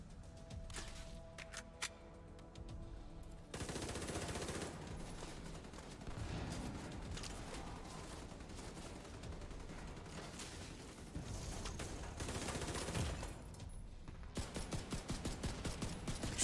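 Rapid bursts of gunfire crackle through a firefight in The Division 2, with dense volleys and short pauses over sustained combat noise and no talking.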